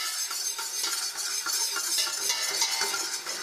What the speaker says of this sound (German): Jetzt schmelzen wir unsere Butter für die Einbrenne. Dazu kommt dann Mehl, wichtig ist auch der Schneebesen